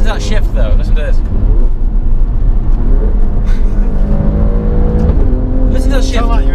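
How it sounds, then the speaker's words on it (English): Alfa Romeo Stelvio Quadrifoglio engine roaring loudly from inside the cabin on a road drive, with revving and a gear shift, under continuous talk from occupants. "Listen to that shift though, listen to this."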